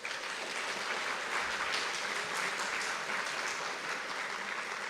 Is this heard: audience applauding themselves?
yes